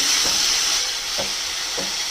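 Beans frying in a pan for a poppy seed curry give a steady, close sizzling hiss, with three soft stirring scrapes spaced about a second apart.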